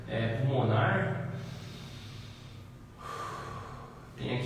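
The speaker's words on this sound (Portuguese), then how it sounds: "Quando a gente respira normalmente, né? Uma respiração pulmonar." A person demonstrates normal lung breathing, with an audible nasal inhale and a long exhale, then a further breath near the end. The breaths are close and fairly loud and fall amid spoken explanation.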